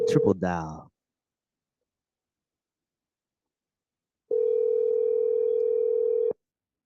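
A brief voice opens the clip, followed by silence and then a steady, continuous telephone tone lasting about two seconds, clear and close on the line.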